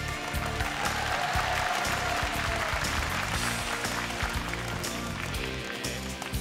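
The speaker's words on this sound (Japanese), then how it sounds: "優勝チームに今一度大きな拍手をお願いします" Sustained applause fills an arcade tournament hall for the winning team, dense and loud clapping from a crowd that carries steadily throughout, with some voices mixed in.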